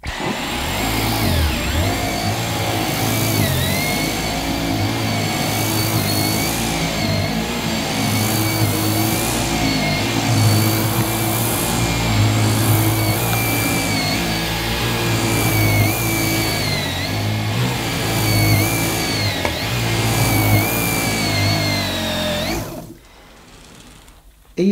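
A Dyson Gen5 cordless vacuum cleaner runs steadily on its eco setting, a loud continuous motor whine with a rough rattling brush head, close by and unbroken until it cuts off near the end.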